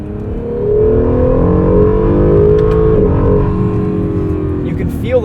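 A 2020 Acura NSX hybrid with carbon-ceramic brakes accelerates hard from inside the cabin, its engine note climbing steadily in pitch and loudness before easing off near the end.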